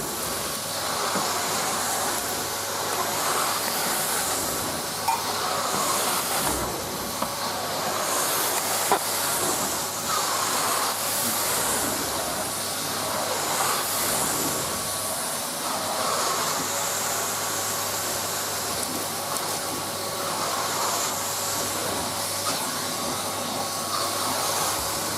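Steady, broad hissing whir of a Numatic Basil NB200 vacuum cleaner running over bedroom carpet, continuous and fairly loud throughout with slight swells as it moves, no voices.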